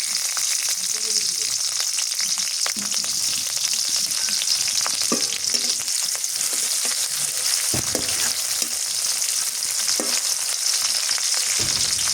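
Garlic and green chili fry in hot oil for a fish curry, giving a loud, continuous sizzle with a few clinks and stirring knocks scattered through.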